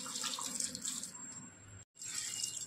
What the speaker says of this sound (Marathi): आता याच्यामध्ये पाणी पण टाकून घेते